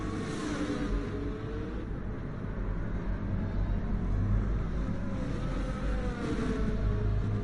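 A McLaren race car in a racing video game roars with a steady, dense engine drone that holds a constant level throughout, with no voices over it.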